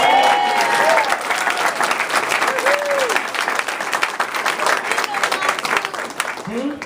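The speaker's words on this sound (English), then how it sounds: "give the House of Labor a huge round of applause" Large crowd at a Latinos con Hillary campaign event in Arlington applauds the House of Labor unions, a dense, sustained wash of clapping with cheers and whoops rising over it, loud and continuous.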